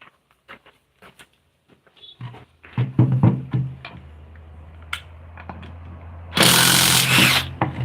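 Power tool cutting off part of a pallet wood phone stand, starting with scattered knocks and a low motor hum, then a loud burst of harsh cutting noise near the end.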